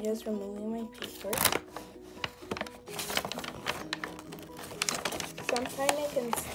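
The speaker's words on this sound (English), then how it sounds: "And I'm just removing my paper." Paper being peeled and torn away from inside a notebook during a makeover: crisp, irregular crackling rips and rustles fill the span, with a voice talking at the start and end.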